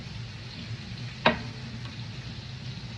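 Garlic, dill weed and herbes de Provence being stirred by hand into a chicken meatball mixture in a bowl, a soft steady scraping with one sharp clink partway through.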